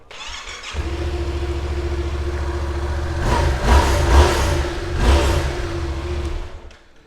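A 2016 Yamaha XSR700 ABS 60th Anniversary Edition motorcycle cranks and fires up, settling into a steady close idle before two loud throttle blips rev the engine up and back down, with no talking.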